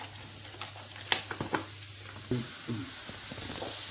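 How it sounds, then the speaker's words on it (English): Bacon lardons frying in a pan, a constant sizzle broken by a few close utensil scrapes and taps. "So we're going to add our bacon lardons and cook those"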